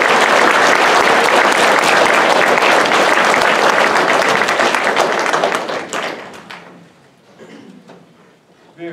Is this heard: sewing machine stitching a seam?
no